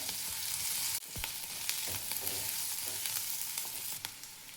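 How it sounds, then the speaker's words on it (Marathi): Garlic cloves roast in hot oil for a rajma masala, a steady close sizzle with scattered crackles and a few sharp spoon or pan knocks, no voices. "लसणाच्या पाकळ्या टाकायच्या. तेलामध्ये भाजून घ्यायच्या."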